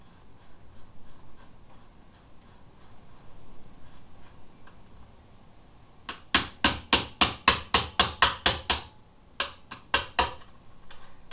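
Quiet rustling, then a rapid series of about ten sharp metallic strikes of a hammer on an Allen key, in steady rhythm, followed after a short pause by a few more blows.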